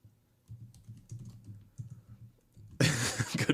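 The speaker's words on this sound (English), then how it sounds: "You hear me typing?" Typing on a computer keyboard clatters in quick, irregular bursts of key clicks at moderate distance, ending in a louder burst of noise.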